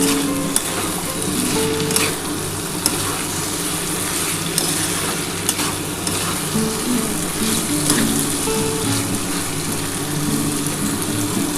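Hilsa fish head cooked with bottle gourd greens as a chorchori sizzles steadily in a pan while the last of the liquid cooks off, a dense, even frying hiss with occasional small pops.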